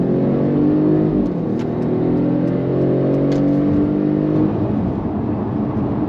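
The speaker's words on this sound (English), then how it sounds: "it does make quite a nice noise when you put your foot down" A Mercedes-Benz E300 petrol (A238) pulls hard under kickdown on a bypass, heard from inside the cabin, its engine drone rising in pitch, easing and rising again, with road and wind noise throughout.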